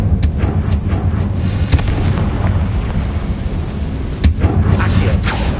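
A Confringo blasting spell going off in a Harry Potter video game, heard as a steady low rumble broken by a few sharp, cracking bursts, loud and close throughout.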